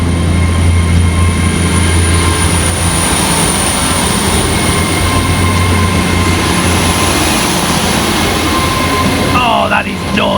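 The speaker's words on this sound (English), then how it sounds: "departing just next to me, the 1435 LNER Azuma service from London King's Cross through to Aberdeen" The 14:35 LNER Azuma service from London King's Cross to Aberdeen departs right alongside with a steady loud rumble and a sustained high whine, and a high squeal rises near the end.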